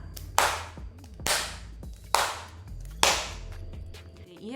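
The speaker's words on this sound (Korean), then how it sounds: "한번 다 같이 박수로 쳐볼게요." A music class claps a syncopated rhythm together, four sharp group claps unevenly spaced, each with a short ringing room decay, alone with no talk.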